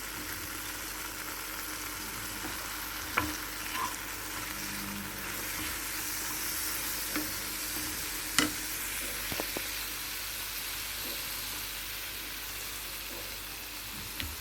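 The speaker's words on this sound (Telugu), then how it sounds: "కొంచెం పసుపు కూడా వేసి వేయించుదాం" Spices fry with turmeric in a pan, giving a continuous close sizzle with occasional sharp stirring clicks.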